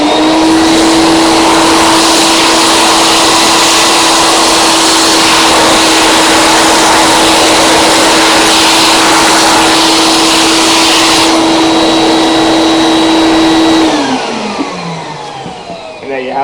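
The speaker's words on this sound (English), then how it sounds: "So I just went over with the steam and the vacuum together initially" Steam cleaner and vacuum run together over an upholstered chair, a steady loud motor whine with broadband hiss that holds constant, then winds down and stops near the end.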